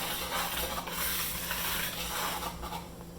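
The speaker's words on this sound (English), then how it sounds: "Get your whisk and combine fully." A whisk stirring dry cake ingredients in a mixing bowl for a chocolate cake, a steady, faint brushing and scraping hiss that continues without pause.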